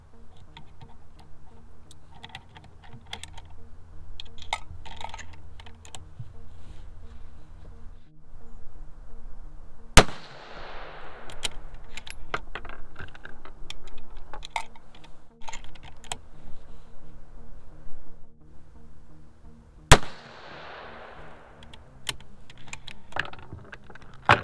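Two sharp rifle shots from a .223 on a shooting range, about ten seconds apart, each with a short ringing decay over faint clicks and rustling.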